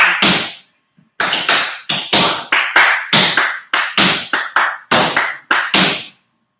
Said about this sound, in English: My claps may be coming through louder than my feet